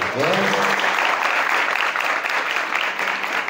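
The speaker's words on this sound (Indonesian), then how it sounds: "Tepuk tangan untuk kita hari ini." A school motivational seminar audience breaks into sustained, dense clapping that holds steady throughout, with a brief voice at the start.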